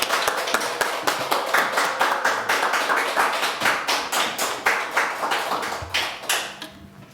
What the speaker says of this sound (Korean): 우리 목사님 나오실 때 박수로 맞이하도록 하겠습니다.